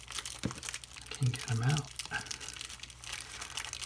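Greasy plastic bags stuck together crinkle and crackle in short bursts as they are pulled apart up close, with someone talking over the rustling.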